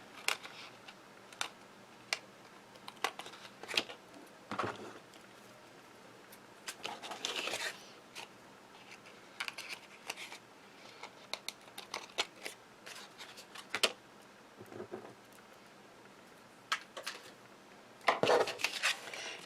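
Crepe paper streamer excess trimmed away from a die-cut with scissors, a scattering of short, soft snips and crinkling paper rustles spread irregularly over the stretch, close and fairly quiet.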